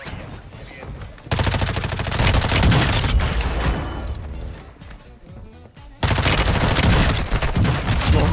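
Video game weapon fire in rapid automatic bursts, loud and close, with one long stream of shots, a brief thinner lull, then another dense burst.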